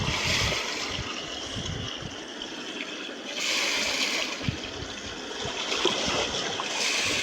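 Buffalo calves being bathed in a clear, brimming stream, with water poured and splashing over them: a steady, close wash of running and sloshing water with no pauses.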